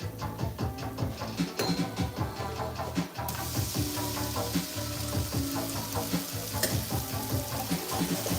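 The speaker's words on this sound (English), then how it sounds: "We're frying up this gnocchi." Gnocchi frying and crisping in a pan, giving a steady dense sizzle with scattered crackles and stirring clatter throughout, close and fairly loud, without talk.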